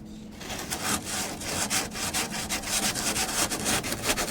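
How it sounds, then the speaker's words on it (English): Wood being sanded by hand during a DIY van build, close and loud rhythmic back-and-forth rasping strokes in a steady even pattern, alone without voices. "And oh, glorious sanding."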